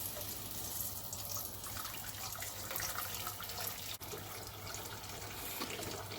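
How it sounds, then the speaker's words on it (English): Water runs steadily into a cooking pan in a home kitchen, a continuous close hiss and splash with a faint low hum underneath, and no one speaking. "I'm going to add some water into this pan."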